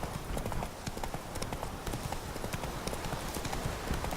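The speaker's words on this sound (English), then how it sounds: "I'll take the horse regardless" Horse hooves trotting at a steady clip-clop pace in The Witcher 3, a continuous rhythmic clatter of game footsteps that stays close and fairly loud with no speech over it.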